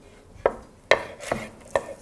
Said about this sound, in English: So I'll cut the strips into thirds.